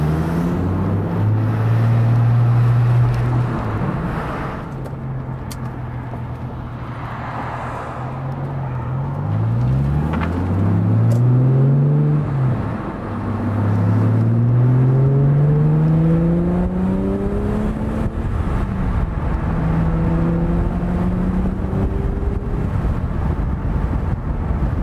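An Aston Martin DB7 with its V12 drives along a beach road, the engine droning close and full, its pitch rising and falling through gear changes and steady cruising.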